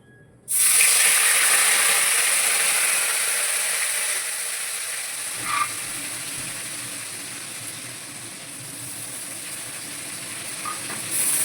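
Soaked, drained cumin seeds hit hot white oil with a sudden loud hiss that settles into a steady, bright sizzle, close by, with a faint clink partway through and no speech.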